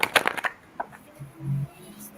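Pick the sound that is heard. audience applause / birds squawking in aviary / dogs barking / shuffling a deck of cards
shuffling a deck of cards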